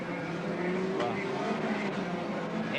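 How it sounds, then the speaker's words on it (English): Touring car engines idle and rev on the street circuit at the 1985 Wellington 500 before the start, a dense continuous mechanical roar of many cars together, moderately loud with a commentator talking over it. "Engines getting warm now, waiting for the flag to drop."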